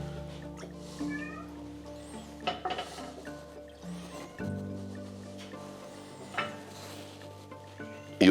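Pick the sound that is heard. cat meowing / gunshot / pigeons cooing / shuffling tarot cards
cat meowing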